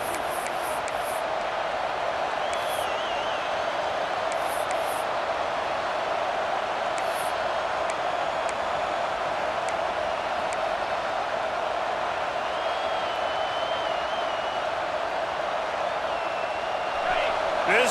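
Steady stadium crowd roar in the College Football 26 video game, a loud continuous wash of cheering with a commentator speaking over it.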